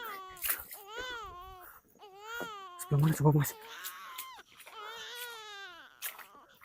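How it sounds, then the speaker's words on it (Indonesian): Wailing baby cry in a spooky night setting with water, heard loud and near in a burst amid surrounding talk, while several people speak excitedly before and after the cry. "ini suara bayi mas"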